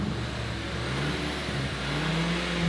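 A VW Golf Mk5 GTI engine runs smoothly after repair of its leaky fuel injectors, a steady close idle hum with a slight rise in revs and a faint whine.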